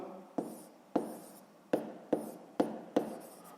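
Chalk or pen strikes a board in short sharp taps, six distinct strokes spaced unevenly, each fading quickly, as the cube's volume is written down in a sixth-grade math lesson; quiet and close, with no talk.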